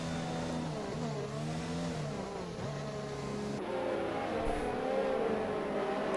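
Race car engines whine and rev together as a bunched pack runs behind the safety car in a racing game at the Belgian Grand Prix, a mid-pitched droning chorus with shifting tones, steady and moderately loud.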